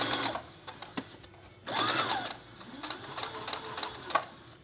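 A domestic sewing machine stitches a fabric appliqué in short bursts, its motor whirring up and slowing as speed is controlled by a foot pedal, with quiet pauses between runs.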